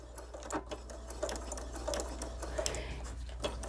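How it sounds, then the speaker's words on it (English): Sewing machine backstitching on a quilt-as-you-go machine cover, a quiet, close run of rapid regular stitch ticks over a low motor hum. "I'm just gonna go ahead and backstitch it"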